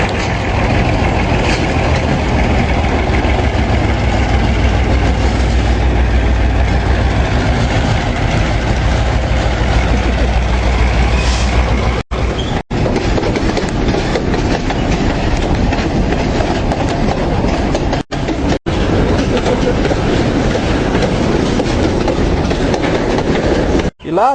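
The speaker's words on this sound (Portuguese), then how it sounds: "Ih, cara, e lá vem o trem." A train passes close by on the rails, a loud continuous rumble with steady clickety-clack from the wagons that lasts the whole stretch.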